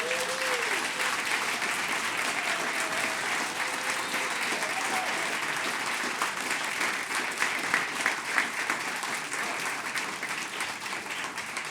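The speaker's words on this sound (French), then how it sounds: "Maintenant, une chaude main d'applaudissements pour nos trois animateurs, Marie-Pierre Morin, Angelo Rubino et Jean-C" A studio audience gives a warm, sustained round of applause for three hosts of a Québec television show, steady dense clapping that carries on unbroken for over ten seconds, with a few faint cheers near the end.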